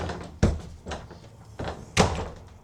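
A series of knocks and sliding clunks as a sliding door lock on a 2026 Jayco Seismic 399 toy hauler is worked, with a sharp bang near the end, close and moderately quiet.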